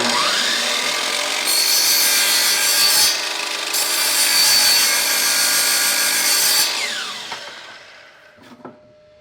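A saw rasps through a hardwood flooring plank in one continuous, loud cut lasting several seconds, then trails off into quiet handling sounds.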